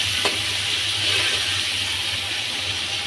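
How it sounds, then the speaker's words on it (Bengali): Eggs fry in hot oil for a spiny gourd curry, giving a loud, steady sizzle that hisses on without a break for a few seconds, with no voices. "দেখুন এবার আমি এটা ভেজে নিই ভালো করে"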